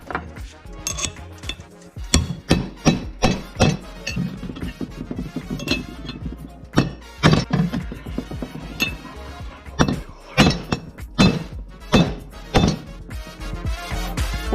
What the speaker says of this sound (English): I just slapped them on and hit them down with the chisel